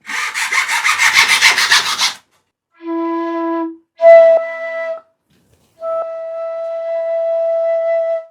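A saw cuts a flute tube to length in quick, rhythmic rasping strokes for about two seconds, followed by a few clear, sustained flute tones played in separate notes.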